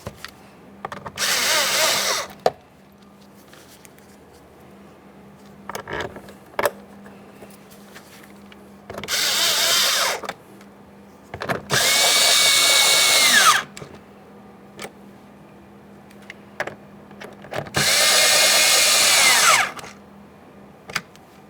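A power drill tightens 7mm mounting bolts on a 2015-2020 Ford F-150 front exterior door handle, whirring loud and close in four separate bursts of a second or two each, with quiet clicks and handling noises in between.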